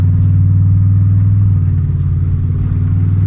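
A salvage-title truck's engine drones steadily while driving, a loud, close, continuous low rumble with even tone and no clear shift point.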